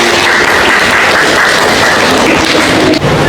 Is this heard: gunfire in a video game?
no